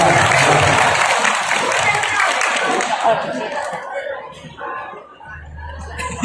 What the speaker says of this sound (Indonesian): Tepuk tangannya, ya Allah